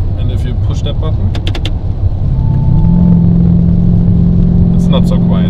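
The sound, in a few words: Novitec Lamborghini Urus exhaust with flaps opened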